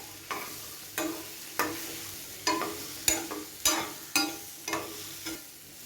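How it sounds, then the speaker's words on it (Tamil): Yam pieces sizzle in a hot pan while a spatula stirs them in regular scraping strokes, about one per second. "இது லைட்டாக ஃப்ரை ஆகிட்டு இருக்கும்போது"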